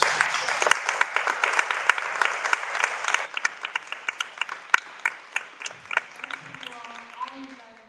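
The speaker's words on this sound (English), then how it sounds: "I just want to give a round of applause and thank you" An audience at a lunch-and-learn panel event applauds with dense, steady clapping that thins into scattered individual claps, with voices rising toward the end.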